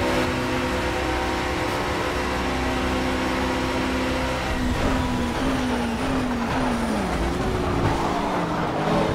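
Racing car engines in Project CARS with a Porsche alongside, a continuous droning roar whose pitch climbs and drops through gear changes, loud and close with no talk.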